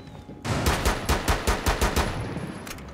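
Rainbow Six Siege automatic gunfire bursts in after a quiet start, a rapid, evenly paced string of loud, close shots continuing for a couple of seconds before tapering off.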